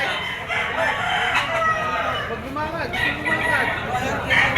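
A white-legged Boston rooster crows loudly and repeatedly amid clucking fowl at an open-air livestock market in Padre Garcia, Batangas, while someone talks over the birds.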